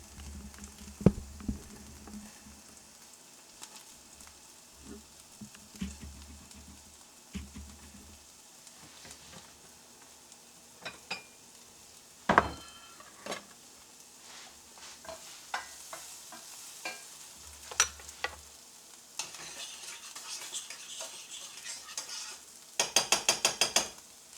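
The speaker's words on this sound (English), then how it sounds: "I just got to get the eggs beat up" Three eggs being beaten for an omelette, a steady run of light tapping and whisking strokes against a bowl with short pauses and a few sharper clinks, fairly close and quiet.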